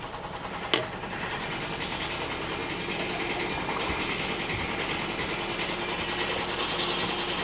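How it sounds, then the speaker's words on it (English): A washing machine runs in a home kitchen and makes the nearby shelves rattle: a steady, dense mechanical rattle and drone with one sharp click near the start, and no voices. "That sound in the background, if you can hear it, is just the washing machine."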